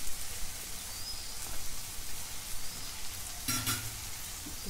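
Ivy gourd pieces sizzle in a hot pan with onion and tomato, a soft continuous frying hiss with occasional stirring scrapes and a brief clatter, fairly quiet and without talk.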